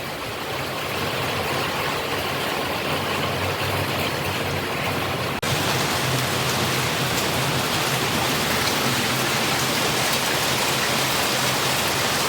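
Steady rain falls during a spell of monsoon weather after five days of continuous downpour, making an even, dense hiss that carries on unbroken for the whole stretch with no voices.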